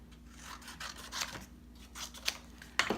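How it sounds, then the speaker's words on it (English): Scissors snip and rasp through stiff card in a series of short, close cuts, some with papery scraping between them, in an otherwise quiet room. "So let me grab some scissors."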